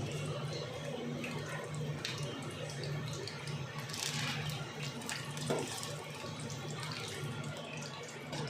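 A tap runs in a steady, moderate stream while utensils are washed in a home kitchen, a continuous splashing rush with faint clinks and no clear talk.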